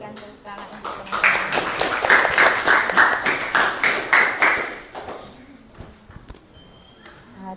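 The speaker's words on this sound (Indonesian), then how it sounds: "kita berikan tepuk tangan untuk teman-teman" A room full of people claps steadily for several seconds after group presentations, then the applause fades out, leaving quiet room noise and a few faint sounds.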